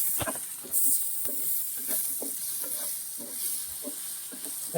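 Chopped tomatoes and onions frying in a pan for a prawn roast, stirred with a spoon: a soft steady sizzle under repeated close scraping strokes, without talk.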